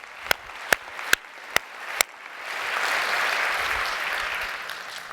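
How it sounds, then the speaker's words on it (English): Applause at a travel and tourism global summit: five sharp, separate claps ring out first, then a broad wave of audience clapping swells and holds steadily to the end. "let's give them one more round of applause"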